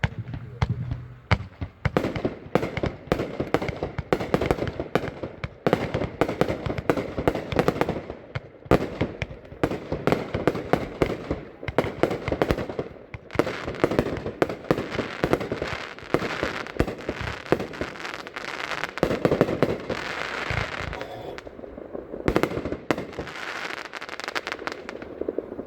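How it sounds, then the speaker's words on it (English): Showtime "Wings of Valor" compound firework cakes, two 24-shot cakes for 48 shots, fire a dense, loud barrage of rapid pops and crackling bursts that runs almost continuously before trailing off near the end. "These are 2 cakes, it's a compound cake, 24 shots each, 48 total shots."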